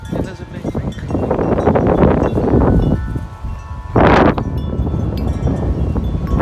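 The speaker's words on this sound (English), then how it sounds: "there's a huge wind coming actually" Strong wind before a storm, loud gusty rumbling and buffeting against the microphone with rustling surges, rising and falling, one sharp blast midway.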